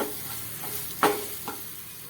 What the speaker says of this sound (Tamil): அதையும் சேர்த்துட்டு நல்லா உருளைக்கிழங்கு கட்டுற மாதிரி வதக்கி விட்டுருங்க